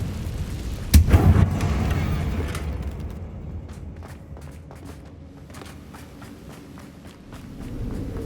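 A Confringo blast spell bursts once with a sharp, loud crack and brief rumble in Hogwarts Legacy, followed by quieter footsteps and scattered clicks of movement.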